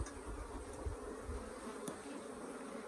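Africanized hybrid honeybees buzzing around an opened hive during an inspection of the brood chamber in southern Arizona, a steady, faint, continuous drone with no talking.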